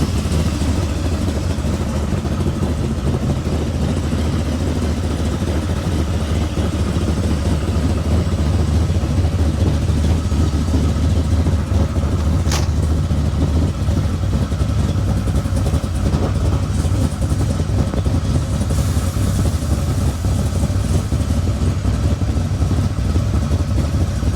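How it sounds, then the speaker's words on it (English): A big-block car engine idles steadily and loud throughout at the Tri-Five Nationals car show in Bowling Green, Kentucky, a deep rumbling drone with slight fluctuations, close by and with no talking. "No one will sound better than the big block, honestly."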